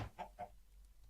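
Chickens in a video game animal farm cluck twice in quick succession, short and faint, with quiet ambience between the calls.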